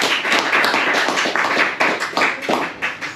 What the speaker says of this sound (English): give yourself a round of applause for coming.